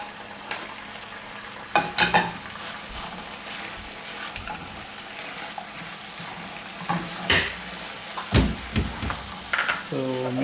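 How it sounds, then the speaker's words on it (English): Fried cauliflower (gobi) pieces are tipped into a pan of honey Manchurian sauce and stirred, giving soft sizzling with scraping and clinking bursts from the spoon and pan, fairly close and moderate in loudness. "So now this is ready, so we can add the fried gobi into it."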